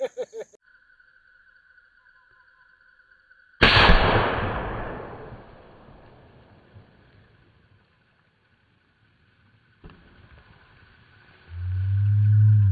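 Unsuppressed safari rifle, a .416 Ruger, fires one loud, sharp shot outdoors, and the report decays over several seconds. A second fainter bang follows later, with a low rumble at the end.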